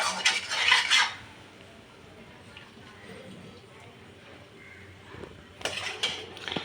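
A metal utensil scrapes and clatters against a pan of paneer butter masala in short bursts at the start and end, with quieter stirring and a voice between.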